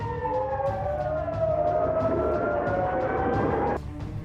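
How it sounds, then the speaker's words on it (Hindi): Air raid sirens wailing over Israeli settlements, a loud, sustained rising tone with overlapping pitches layered over a low rumble, cutting off abruptly near the end. "हमले से कई इजरायली बस्तियों में सायरन बजने लगे"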